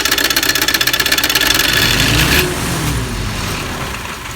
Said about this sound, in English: once it starts compressing air inside that air hose, you can hear it get really loud